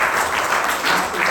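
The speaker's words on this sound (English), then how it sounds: "Let's give Krish a round of applause" Audience applause at a club etiquette masterclass evaluation meeting. The clapping is dense and steady, from a room full of people, heard close and fairly loud for a brief moment.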